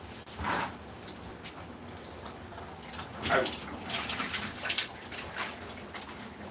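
Liquid mold material dribbles and splashes in slow pours into a massive mold, a soft wet trickle with a few louder gushes over a steady hiss, close and alone.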